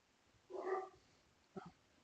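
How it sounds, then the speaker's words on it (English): A pet dog barks indoors in a room, one quick bark followed about a second later by a shorter yip, both faint and distant with no talking over them. "excuse my dogs"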